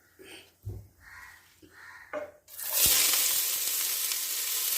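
Mustard seeds pop and splutter in hot oil while a clam thoran combo is being cooked, a loud continuous sizzle that starts suddenly after a few soft kitchen sounds.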